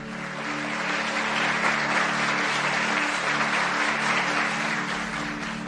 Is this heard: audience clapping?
yes